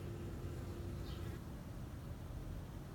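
Faint, steady buzzing of honey bees hums continuously throughout, quiet and even, with no voices.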